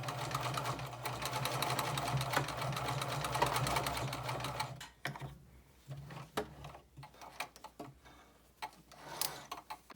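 Sewing machine stitching a very short pocket seam, running steadily for several seconds, then stopping and starting in brief bursts as it goes forward and back, with small clicks between runs.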